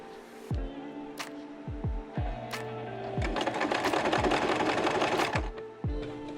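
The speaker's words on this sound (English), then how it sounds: "You're going to put your needle right here, and you're going to sew on this crease line." A sewing machine stitches along a fabric crease line for a mitered corner, its needle thumping in irregular bursts over a steady motor whir that builds into continuous running midway.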